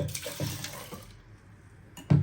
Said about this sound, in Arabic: هجيب بقى معايا كوبايه ميه، وهغطي كل الحاجات دي كده بالميه بتاعتي